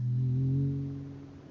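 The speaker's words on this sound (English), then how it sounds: "Yes, that's what emus sound like." An emu call from the game Myst: Masterpiece Edition, a single low, hollow resonant drone lasting just over a second and fading slightly at the end.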